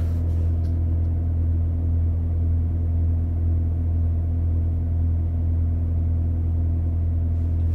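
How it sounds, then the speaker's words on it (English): A truck trailer refrigeration unit runs with a steady, droning engine-like hum and a low pulsing rumble, continuous at an even level nearby. "That's a reefer."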